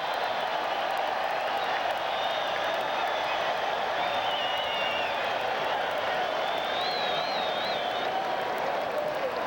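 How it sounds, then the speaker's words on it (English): Baseball crowd at a Blue Jays home game in Toronto, mid-1990s, booing and jeering pitcher Eichhorn with a broad, steady roar of voices that holds for the whole stretch, with whistles rising above it. "Eichhorn gets the Bronx cheer in Toronto"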